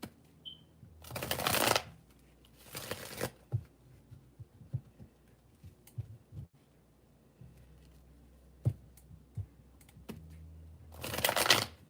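Tarot cards being shuffled in three separate riffling bursts, each a quick papery flutter lasting about a second, with quiet handling noises and soft taps in between.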